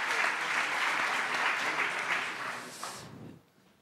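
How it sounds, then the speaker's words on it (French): An audience in a hall at a student event gives a warm round of applause, thick and steady clapping that tapers off and stops near the end, leaving near silence. "On les applaudit tous les 5"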